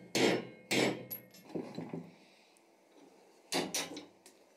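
Sharp metal hammer blows strike a punch driving the handle out of an old hammer head, two hard hits, then a few lighter taps, a pause, and two more strikes with ringing decay.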